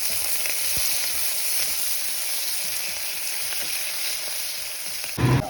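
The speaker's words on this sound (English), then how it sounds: "Then I'm going to add the half onion that I cut into and the 1 green chili. So let it saute for a couple of minutes." Half an onion and a green chili sauté in hot oil in a pan for South Indian mutton biryani, giving a steady, close, continuous sizzle with occasional stirring scrapes and a brief louder clatter near the end.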